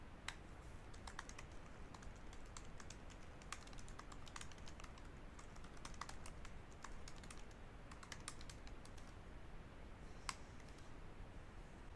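Steady typing of code on a computer keyboard, with quick irregular key clicks running throughout, close but fairly soft over a hiss of background noise.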